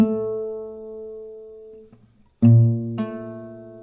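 An acoustic guitar plays the G-based part of a song: a sustained ringing note fades out, then after a short pause two fresh plucked notes ring out clearly and close, alone.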